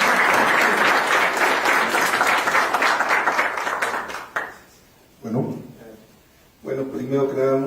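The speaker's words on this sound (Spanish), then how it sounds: "Pues un aplauso para el doctor Octavio Klinec." Audience applause at a Mexican biodiversity legislation panel, dense steady clapping from a seated crowd for about four seconds, fading out, followed by a speaker's voice alone.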